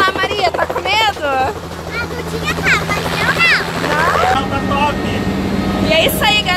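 A helicopter's engine and rotor drone steadily underneath excited voices talking and exclaiming close by, at a dinosaur park.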